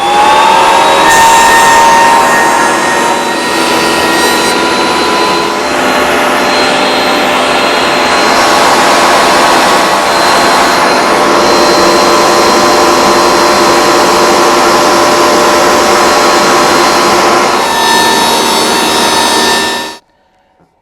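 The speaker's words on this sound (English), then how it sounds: "Another test run, dust collector, planer." A Shop Fox W1877 planer with a spiral carbide-insert cutterhead runs together with a dust collector, producing a loud, steady whirring roar with a high tonal whine that holds for about twenty seconds before spinning down abruptly, with no talking.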